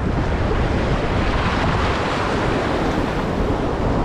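Ocean surf rolls continuously onto the beach at Sonadia Island, a steady loud wash of breaking waves with wind buffeting the microphone throughout and no voices.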